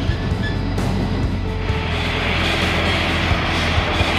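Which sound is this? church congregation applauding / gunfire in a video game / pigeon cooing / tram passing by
tram passing by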